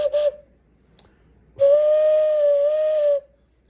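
A handmade clay whistle with a reed mouthpiece gives a short toot, then after a pause a steady, clear, sustained whistle tone lasting about a second and a half, close and loud.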